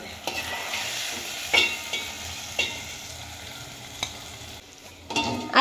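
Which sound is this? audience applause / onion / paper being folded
onion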